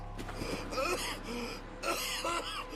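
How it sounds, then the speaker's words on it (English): Arthur in Red Dead Redemption 2, ill with consumption, makes a few rough throaty coughs and strained breaths, close and clear in two short bursts. "Arthur looked sick, and he was coughing"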